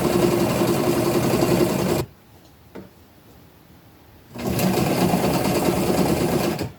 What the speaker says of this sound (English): I'm going to sew all these little cuffs onto the bottom of this all the way around